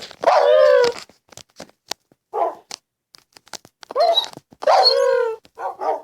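Several sharp barks and yips from a dog in a Minecraft-style escape map game, coming in short bursts with clicks and quiet gaps between them.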